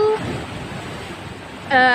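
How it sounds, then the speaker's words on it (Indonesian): Surf rolls steadily onto a beach at Hukurila in Ambon during the rough-wave season, a continuous wash of breaking water with a brief voice rising at the very end. "masih musim ombak seperti yang tadi beta bilang"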